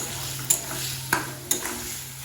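Boiled potatoes being mixed with spices in a pan for cholar bora, a soft sizzle under three sharp scrapes of a spatula, close and without voices.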